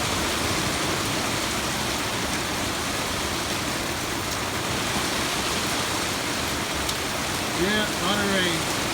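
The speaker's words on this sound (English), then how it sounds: "Yeah, a lot of rain." Heavy rain pours in wind, overflowing gutters, a loud, continuous roaring wash that holds steady; a brief voice-like sound rises over it near the end.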